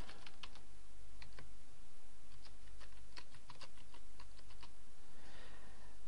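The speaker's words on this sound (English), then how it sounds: "Enter the username and password." Someone types a username and password on a computer keyboard, the keys clicking in quick irregular bursts over a steady low hum.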